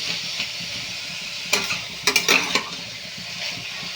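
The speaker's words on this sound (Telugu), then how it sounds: "ఫ్రై చేసుకుందాం ఫ్రై అవుతున్నాయి కదండి" Chopped vegetables sizzle steadily in a hot pan while being cooked for upma, with a few sharp clinks and scrapes of a spatula stirring against the pan partway through, no voices.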